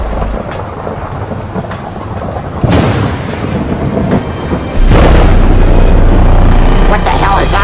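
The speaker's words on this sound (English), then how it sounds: "Is there a thunderstorm outside?" Heavy thunder rumbles and booms through steady rain during a thunderstorm, two loud swelling cracks building over the downpour, with voices mixed in.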